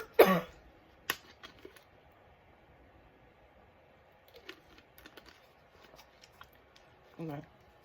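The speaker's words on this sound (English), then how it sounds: "I know it's not fun to listen to me cough." A woman coughs in a quiet room, with a sharp burst at the start, a single short cough shortly after, and a rougher cough near the end, separated by faint rustling and small handling sounds.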